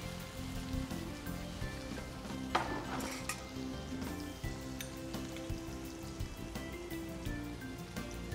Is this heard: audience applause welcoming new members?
no